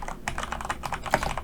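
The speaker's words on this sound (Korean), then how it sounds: "타이핑 하겠습니다" Typing on a computer keyboard while building a spreadsheet for an ITQ Excel exam, with a quick run of close, crisp key clicks and one slightly louder strike near the end, no voices.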